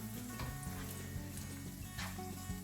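Oil sizzling and frying in a pan while preparing shakshuka, a close, steady crackling hiss with a continuous low hum underneath.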